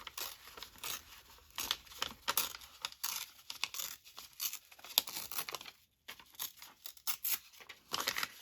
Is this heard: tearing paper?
yes